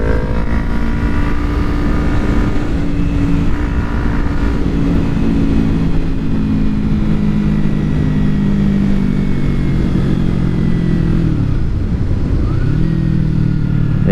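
A 2012 Kawasaki Ninja 250R motorcycle engine drones steadily and loudly while riding, its pitch rising and falling through a dip near the end as the rider shifts and slows.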